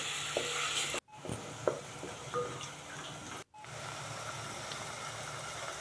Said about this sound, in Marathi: आता यातच मी तेल छान तापलं की दोन मोठे बारीक चिरलेले कांदे यामध्ये छान परतून घेत आहे